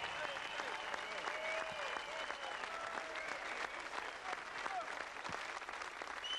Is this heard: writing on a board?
no